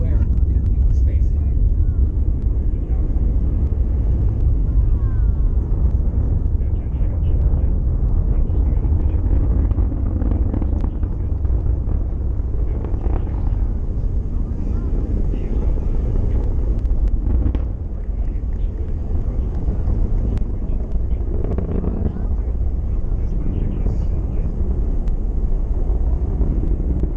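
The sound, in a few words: rocket launch rumble, Starliner lifting off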